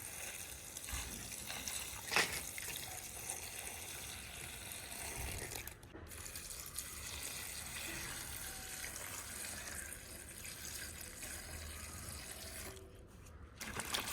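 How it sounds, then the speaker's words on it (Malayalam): Water is poured over flowers to wash them, a faint, continuous trickle and splash with a few small clicks and clatters along the way. "നമ്മൾ വെള്ളം ഒഴിച്ചിട്ട് നല്ലപോലെ ഒന്ന് കഴുകിയെടുക്കുകയാണ്"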